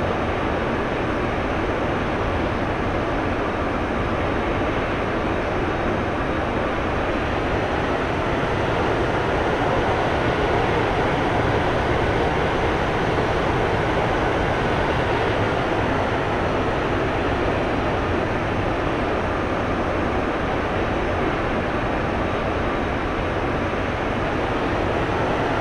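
An Su-25 jet taxiing toward the runway in the DCS flight simulator game gives a constant, dense engine roar that holds at an even level throughout, with no talk over it.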